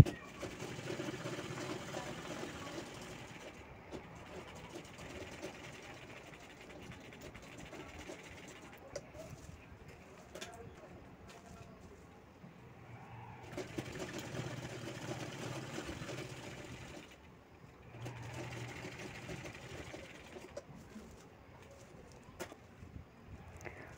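A sewing machine stitches a piping strip onto a fabric organiser in faint, quiet bursts of motor whir, running for a few seconds at a time with pauses between.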